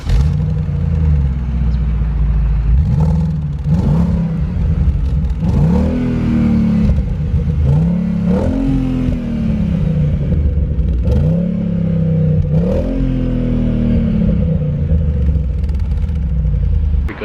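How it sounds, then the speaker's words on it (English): A 2003 Audi RS6 engine heard from inside the cabin while driving, loud and steady, rising and falling through repeated revving pulls with gear changes every couple of seconds and no talking. "I love how it sounds from the manufacturer. It just has this sound when you drive it from inside."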